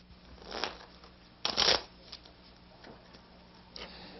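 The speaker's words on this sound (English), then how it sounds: "that's a familiar sight, the shuffling of blackjack cards" Blackjack cards are shuffled up close in several quick riffling bursts, with the loudest in the middle, separated by quiet pauses. No one talks.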